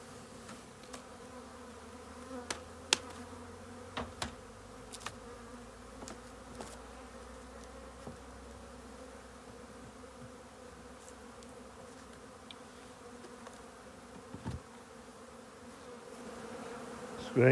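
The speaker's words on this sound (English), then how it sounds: "banging off any bees that are remaining on them" Honey bees buzz in a continuous low drone, with occasional sharp knocks and taps as bees are banged off hive screens.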